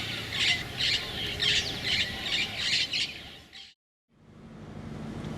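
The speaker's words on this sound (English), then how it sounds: "noisy passing flocks of red-billed parrots" A flock of red-billed parrots passing over Ecuador's eastern Andean slope squawks in a rapid, repeated series of harsh calls, then the sound cuts out briefly before faint background returns.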